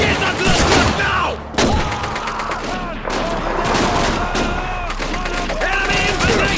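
Dense, continuous rifle and machine-gun fire crackles through a Call of Duty 2 video game battle, loud and close, with rapid overlapping shots and shouting soldiers mixed in.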